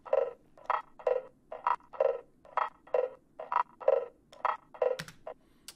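Electronic music loop with the gate switched off, a complex Beatport-style pattern of punchy, evenly spaced rhythmic hits repeating about twice per second, with a soft sustained bed running underneath between the beats.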